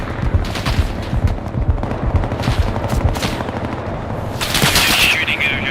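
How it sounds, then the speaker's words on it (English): Machine gun fire in the tactical shooter Bellum, a dense rattling stream of shots coming from a village and tree line, fairly loud and continuous with heavier bursts near the end. "It's indirect machine fire coming from the village and that tree line."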